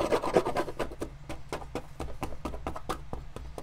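Old finish being scraped off a Florsheim leather shoe during restoration, a close, steady series of rasping strokes in quick rhythm, heavier at first and then lighter, with no talking.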